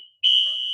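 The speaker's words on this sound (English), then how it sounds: "our fire alarm is going off." A fire alarm sounds indoors, a sharp piercing electronic tone that cuts in abruptly after a near-silent start and holds steady and loud.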